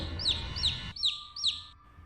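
A chick cheeps in shrill, repeated downward-sweeping peeps, four loud calls in steady rhythm, close and clear over a faint low background.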